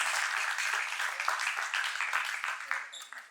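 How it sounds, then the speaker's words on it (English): A press-conference audience at the Jio MAMI Mumbai Film Festival applauds steadily, a dense wash of clapping that holds for a few seconds and thins slightly toward the end. "please give these amazing ladies a huge round of applause"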